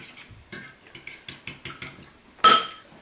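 A whisk beats raw eggs, yolks and whites, for carbonara in a bowl, ticking in about nine quick even strokes that end with a sharper clink against the bowl.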